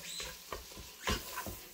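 Onion sautéing in melted butter in a pan for potato soup gives a soft, close sizzle with scraping and stirring sounds at irregular intervals, and no one speaks.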